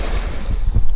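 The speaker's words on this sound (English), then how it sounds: "I can't believe there's so many waterfalls around" A waterfall on the Appalachian Trail gives a loud, steady, broadband rush of falling water that fills the whole second without a break.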